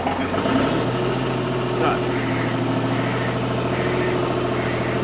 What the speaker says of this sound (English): I'm just lifting this section of the boom